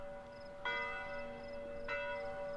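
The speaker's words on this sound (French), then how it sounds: "les cloches sonnent" Village church bells ring at a moderate distance, two clear strikes with long resonant decay over a steady background hum.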